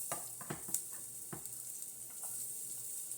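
Head-on prawns sizzle in melted butter in a pan, a steady bright hiss with a few soft clinks and stirring knocks early on, close and alone without talk.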